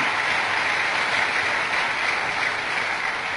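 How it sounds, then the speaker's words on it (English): Steady, dense applause from a crowd at a governorship debate in Oyo State fills the whole stretch at an even volume, with no voices breaking through. "I think the candidates all deserve a rousing round of applause."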